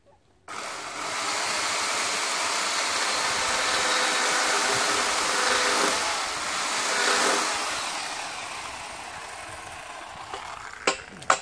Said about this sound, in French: je vais mettre un coup de scie au bout